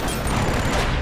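A short, dense burst of rapid gunfire from the video game Borderlands: The Pre-Sequel, loud and continuous with no pauses and no speech.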